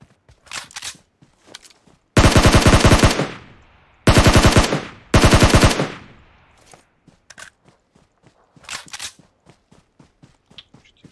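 PUBG automatic gunfire, loud and close: three long sustained bursts of rapid shots, with scattered single shots and light clicks between them.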